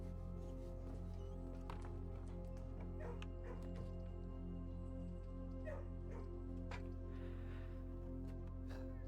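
A dog in the video game Blue Prince gives soft, faint yips and whimpering barks scattered over a steady low hum of game background sound.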